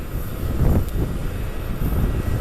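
A Southwest Boeing 737-700 taxis toward its gate at Columbus airport, giving a steady low engine rumble mixed with wind noise throughout, with no talking.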